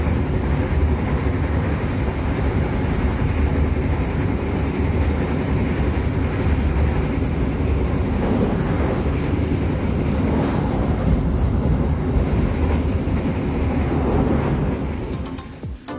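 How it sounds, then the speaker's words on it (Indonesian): KA Singasari passenger train running at speed, a steady loud rumble and rattle of wheels and carriages with wind rush, continuous throughout and fading slightly at the end. "Artinya kereta bisa dipacu dengan kecepatan hingga 100 km per jam"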